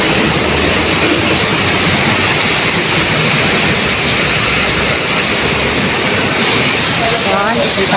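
A loud, continuous rumble of an MRT metro rail train running close by in Manila, steady roar with rattling, no pauses, dense mechanical noise filling the whole clip.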